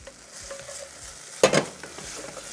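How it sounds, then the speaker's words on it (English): Scraping of browned, caramelized food off the bottom and edges of a hot frying pan, a close sizzling backdrop with one loud, brief scrape burst midway, then quieter stirring scrapes. "I'm just gonna keep scraping the edges off, scraping that brownness off of the pan."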